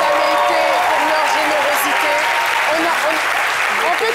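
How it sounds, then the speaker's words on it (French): A studio audience on an Ivorian midday television show gives steady, dense applause throughout, with a voice speaking over the clapping. "Est-ce qu'on peut vraiment applaudir pour cette dame-là, pour leur spontanéité"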